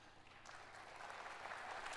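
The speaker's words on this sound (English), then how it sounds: "polite clapping" Polite applause from the audience at a live gaming show broadcast, a steady patter of many hands clapping that swells slightly toward the end.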